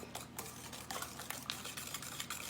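A spoon works through thick chocolate fudge pie filling with vanilla in a home kitchen, giving soft wet scraping and sloshing strokes at a steady pace, faint and close, with no voices.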